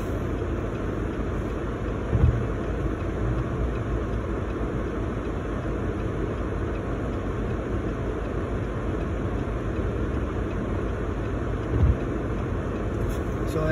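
Vehicles travelling snowy winter roads in Barrie, Ontario, heard as a steady, fairly loud road and engine rumble from inside a car, with two faint brief thumps.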